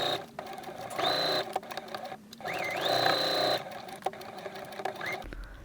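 Domestic sewing machine stitching a seam across the corner of a fabric tote bag, running in several short bursts with a whirring motor and rapid needle chatter, close and alone.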